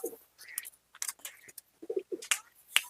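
Andhra pigeons cooing in short, separate bursts with gaps between calls, fairly close and moderately loud, with no talking over them.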